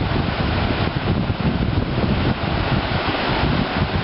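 Ocean surf washing near a foundering iceberg off Twillingate, Newfoundland: a constant broad roar of waves mixed with heavy wind buffeting the microphone, loud and unbroken for the whole stretch.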